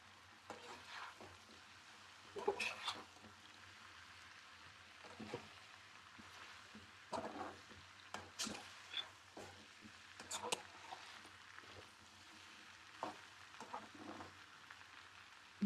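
Okra frying in a pan for a pappu saaru recipe, a faint steady sizzle with intermittent scraping stirs and clinks, continuing under quiet talk.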